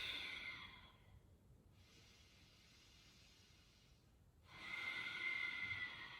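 Slow ujjayi breaths drawn in and out through the nose with a constricted throat during a yoga flow, giving a soft hissing, ocean-like rush on the inhale and again on the exhale, close and quiet, with no talking.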